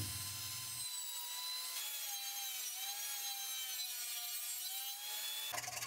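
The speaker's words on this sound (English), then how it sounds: "Using a rasp, I shaped one edge of the fretboard." A rasp scrapes along the edge of a wooden fretboard for a homemade electric guitar, with steady, close, rough strokes in a few long passes and a brief pause between them.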